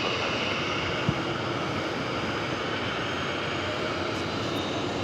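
A Nippon Cargo heavy airliner lands at JFK on runway 22 left, its engines a constant broad roar from the airfield, steady and moderately loud without any talk.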